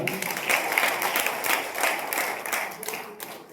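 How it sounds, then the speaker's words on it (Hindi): An audience at a gathering claps loudly for a guest, a dense wash of applause that swells and eases slightly before tapering at the end. "एक बार सर के लिए जोरदार ताली"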